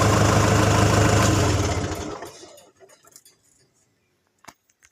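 A Kubota M6040 tractor engine idling loudly up close, then being switched off, its low rumble fading away over about two seconds into near silence, followed by a few faint ticks and clicks.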